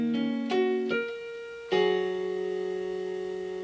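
A piano plays a short fragment of a song: a few separate notes and a chord struck together, followed by a ringing, sustained final chord that decays slowly, clear and close with no talking.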